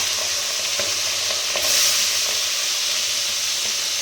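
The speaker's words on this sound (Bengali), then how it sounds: "আমি কিন্তু মাছগুলোকে একটু হালকা হালকা করে ভেজে নেব" Fish frying lightly in hot oil in a pan, for a mustard hilsa dish, giving a steady close sizzle and hiss with a brief louder burst partway through and no talking.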